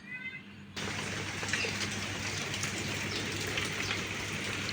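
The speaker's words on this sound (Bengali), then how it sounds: "এখানে দেখেন মুসুল ধারে বৃষ্টি হচ্ছে" Steady heavy rain pouring down, a dense constant hiss of drops beginning abruptly after a brief quieter moment with faint birdsong.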